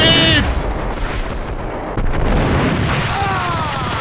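A grenade explosion in the video game Max Payne lands as a loud boom at the start, followed by rumbling debris and gunfire-like bursts, with a person exclaiming over the din.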